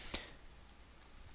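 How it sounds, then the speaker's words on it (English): A single sharp computer mouse click sounds close and crisp at the start, followed by two fainter ticks over quiet background hiss. "I'm going to just click yes."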